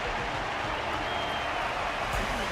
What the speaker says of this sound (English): Their constant applause is a salute to this resilient Belabogian fighter.